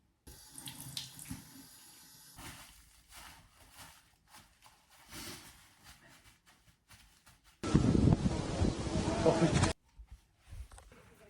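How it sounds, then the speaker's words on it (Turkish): Tap water runs into a bathroom sink as a face is washed, a loud steady gush of about two seconds that stands out between quieter stretches of room noise and soft movement. "Şimdi bir yüzümü yıkayacağım minik."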